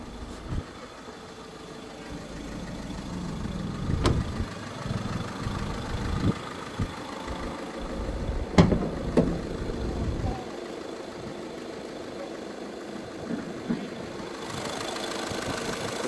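A 2017 Volkswagen Vento Highline 1.5 TDI diesel automatic idles with its bonnet open, giving a steady close rumble with a few sharp clicks and knocks, and a voice faintly in the background.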